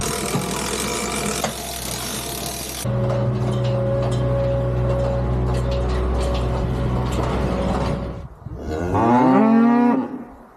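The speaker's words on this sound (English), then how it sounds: "I've got one older cow in the trailer here." An older cow in a livestock trailer, with a rumbling engine and rattling mechanical noise through most of the clip, then one loud, close, drawn-out moo near the end.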